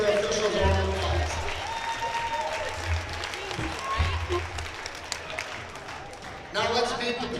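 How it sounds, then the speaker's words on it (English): Crowd applause in a high school gym honoring the officials before an 8AA first-round volleyball playoff match, steady and broad with voices mixed through and a louder swell near the end. "Let's give our officials a round of applause"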